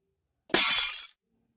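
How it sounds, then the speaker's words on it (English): Glass pops and shatters in one sharp, bright burst lasting about half a second, close and clear against silence. "Suddenly, we hear the sound of glass popping and breaking."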